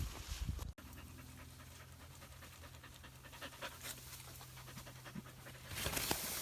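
A dog pants steadily close by in an outdoor field, quick rhythmic breaths running through the whole stretch with a short pause near the start.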